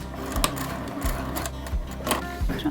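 Sewing machine stitching a 1/8-inch seam at a 3.5mm stitch length, a close, rhythmic mechanical chatter with repeated heavier thumps about every two-thirds of a second.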